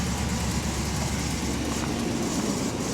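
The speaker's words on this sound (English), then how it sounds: "I hear a pulley for the belt making a little bit of noise under the hood here" A Ram Sport truck's 5.7 Hemi V8 idling up close, a steady broadband rumble with faint whirring from a noisy belt pulley under the hood, constant and alone without talk.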